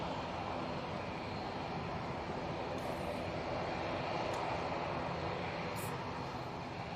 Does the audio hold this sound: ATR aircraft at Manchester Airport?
yes